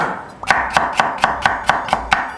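A knife julienning carrots for gimbap on a cutting board: about eight crisp, evenly spaced chops in quick steady rhythm, close and clear with no talking.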